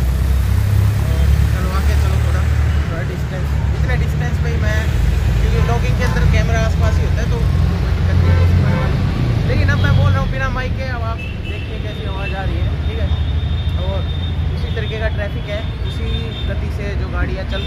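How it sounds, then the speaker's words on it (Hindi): Busy street traffic with passing vehicles and a crowd, recorded without an external microphone, forms a constant loud roar of engines and road noise with chirpy high sounds. Someone talks throughout over the din. "गाड़ियाँ चल रही हैं, इतनी ट्रैफिक के आसपास भीड़ है, लोग हैं"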